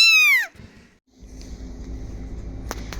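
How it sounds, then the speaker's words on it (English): A kitten on a farmhouse porch meows several times in quick rising-falling cries, clear and close, followed by quieter low rustling and handling noise with a faint brief knock near the end. "This kitten was on the porch,"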